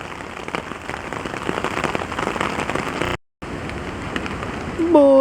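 Steady heavy rain beats down through the night in bushland, a dense continuous hiss that drops out briefly and then resumes, with a voice starting to talk at the very end.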